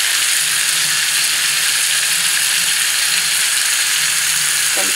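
Pav bhaji vegetables frying in oil with salt and pav bhaji masala, giving a steady, loud broadband sizzle that holds evenly throughout, with no voices.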